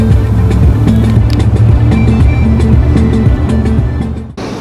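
A car drives along National Road 3 in Cameroon toward the Dibamba, its engine and road noise loud and steady from inside, with rhythmic low thumps before the sound briefly drops at the end.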